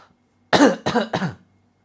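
Three hoarse coughs in quick succession, close and loud, during a prayer-based healing session, then silence.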